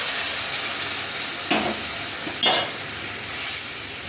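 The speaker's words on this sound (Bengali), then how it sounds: "এবার তরকারির কড়াটা ফুটিয়ে নেব।" A pan of fish curry with drumsticks, potatoes and pointed gourd in mustard paste bubbles and hisses steadily, loud and close, with a few brief swells of stirring or spattering and no talk.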